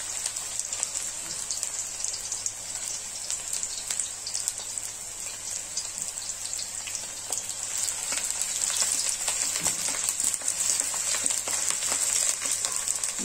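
Onions fry in a pan for a paneer butter masala, giving a steady, even crackling sizzle with a hiss that swells a little toward the end. Nobody speaks.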